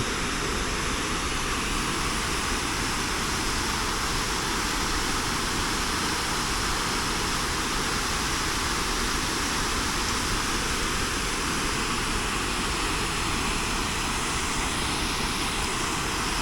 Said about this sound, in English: Deschutes Falls. Quite a drop right here.